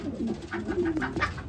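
King pigeons cooing nearby, a short run of soft, low throaty coos repeating in quick succession, alone without talk.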